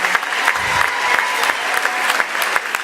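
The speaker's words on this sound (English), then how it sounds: "Come on, give a big round of applause for that." Audience at a tech summit keynote panel claps for just under three seconds, a steady patter of many hands with a few sharper individual claps standing out.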